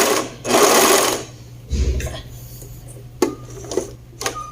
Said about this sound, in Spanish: Después le podemos dar una pasadita con la máquina para que quede más fuerte.